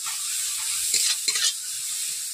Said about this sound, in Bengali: পেঁয়াজের মধ্যে একটু অল্প করে তেল দিয়ে দিচ্ছি।